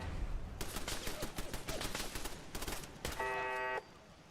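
Turret gunfire in the video game Fallout 4, with rapid automatic bursts rattling almost continuously, followed by a brief steady electronic tone near the end.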